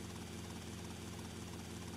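A helicopter in GTA Vice City flies close by, its steady rotor chop and engine drone loud and continuous throughout, with no other sounds over it.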